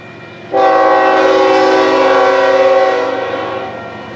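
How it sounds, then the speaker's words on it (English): A train horn sounds loud and close beside a rail line in Crockett, California, one long sustained blast that starts abruptly, holds for about two and a half seconds, then fades out. "Here comes a train right now."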